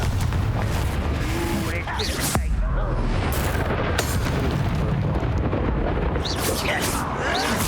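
Blasting Confringo spell explosions in the Hogwarts Legacy video game, heavy booming bursts amid a dense, continuous battle din, with sharp impacts near the start and middle.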